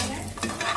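Bori lentil dumplings frying in a pan give a brief burst of soft sizzle and a couple of stirring scrapes, close by and without talk.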